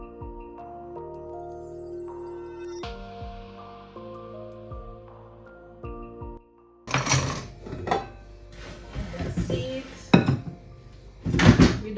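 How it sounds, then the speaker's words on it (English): Cornmeal cake batter being mixed in a bowl: after a stretch of soft music, loud irregular clattering and scraping of a utensil against the bowl, with sharp knocks near the end. "they mix it only until you don't see any more flour"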